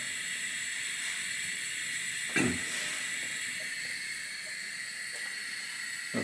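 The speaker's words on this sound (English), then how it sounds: "That's the coffee pot." A Bialetti Bia2 stovetop espresso maker on a gas hob gives off a steady, close hiss that holds throughout, with one brief louder puff partway through and no talking.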